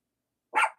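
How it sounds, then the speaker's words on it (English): A single short bark from a female dog, loud and close, coming after a quiet stretch in a crochet room and sounding alone with no voices over it. "you hear my dog? She wants to get out of here too."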